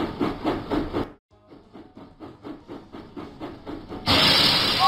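Steam engine puffing in a Thomas & Friends video game: a regular chuffing rhythm of short bursts that speeds up steadily, ending in a loud, sustained hiss of steam.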